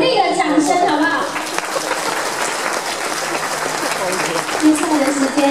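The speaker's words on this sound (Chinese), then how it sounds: "那我们给我们的新娘鼓励的掌声好不好？" Wedding guests break into sustained, dense applause for the bride, steady hand clapping that fills the whole stretch with a faint murmur of voices underneath.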